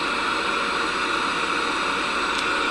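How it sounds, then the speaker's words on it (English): Very loud, steady white noise plays from a phone, a constant broadband hiss without breaks or voices. "I've got some very loud white noise going"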